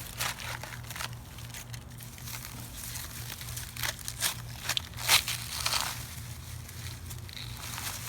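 Blade cutting straight across a hardy banana stem, heard as close, irregular crackling and crunching bursts with soft rustling between them and no talk.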